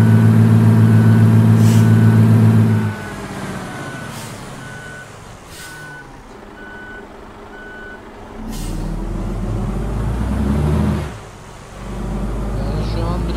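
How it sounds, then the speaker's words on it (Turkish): A bus in Euro Truck Simulator 2 reverses with a loud engine drone and a steady run of repeating reversing beeps, followed by hissing air-brake bursts and a deep rumble as the engine revs up again. "Geri giderken motor sesi çok fazla geliyor arkadaşlar."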